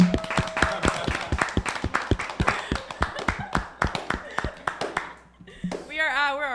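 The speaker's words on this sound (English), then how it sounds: "we're clapping first. Everyone clap." A small group claps together at a live gathering at The Flamingo House, loud, close, irregular slaps for about five seconds, then a voice begins speaking right after.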